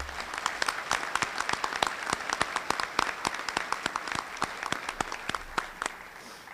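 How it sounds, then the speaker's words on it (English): A modest round of applause at a community gathering, the individual claps clearly separated and uneven, a small crowd clapping near the listener before it begins to thin at the end. "Would y'all please give them a great round of applause?"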